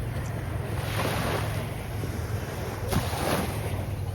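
Waves and wind on the local beach in Mindelo, just beyond the marina: a continuous rush of surf with steady wind buffeting the microphone, moderately loud and close, with no voices.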